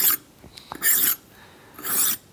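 A leather round knife drawn across a sharpening stone under light pressure, giving three separate gritty rasping strokes with brief pauses between them.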